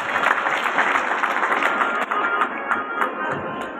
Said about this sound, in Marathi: आमच्या तबला वादका करता सगळ्यांनी टाळ्या वाजवल्या.